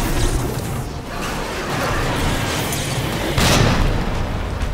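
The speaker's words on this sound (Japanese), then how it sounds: "破片手榴弾" A fragmentation grenade blows up during a boss fight in the Resident Evil 2 remake, a loud, rumbling blast inside a continuous roar of noise, with a sharper burst flaring near the end.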